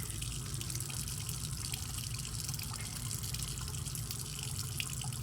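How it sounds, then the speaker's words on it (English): Sink tap running steadily while hands are rinsed under it, a faint continuous splashing hiss of water with no talk. "we want to rinse it off in the sink"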